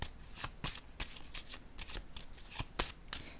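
Tarot-style cards are shuffled in a card reading: a close, quiet run of crisp riffling bursts and slaps, repeated at an uneven rhythm with no talk.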